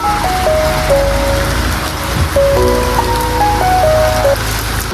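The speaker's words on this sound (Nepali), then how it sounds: "अझ एकदम ठुलो पानी आएको छ" Heavy rain pours steadily, a dense hiss of drops drumming on surfaces, while a simple tinkling melody of tones rings out above it.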